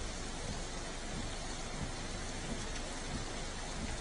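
Steady rain pours down throughout, a dense, even hiss of drops striking surfaces during a heavy monsoon downpour in Gujarat, with no voices.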